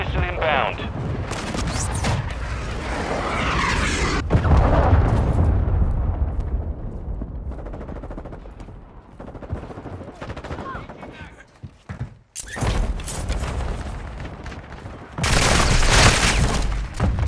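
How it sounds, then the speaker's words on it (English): Cruise missile strike explosions in Call of Duty: Modern Warfare II multiplayer, heavy booming blasts and crackling gunfire rolling across the clip with loud bursts near the start and end, under brief radio-style game announcer voice. "Friendly cruise missile inbound."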